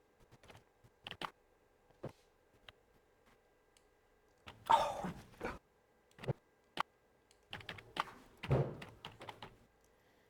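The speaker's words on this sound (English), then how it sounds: "as he's typing." Quiet, sparse typing on a computer keyboard: short bursts of key taps and clicks separated by pauses, close but faint.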